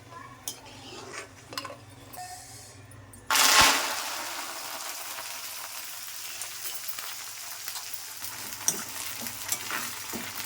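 Dry red chillies dropped into hot oil for coriander chutney burst into a loud sizzle, then settle into a steady frying crackle with faint stirring and utensil clinks, no voices.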